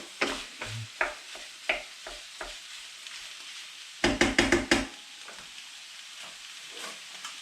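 White ragu with wine simmers and sizzles in a pan while a spoon scrapes and stirs it, a series of distinct stirring strokes followed by a quick burst of rapid clatters over the low frying hiss.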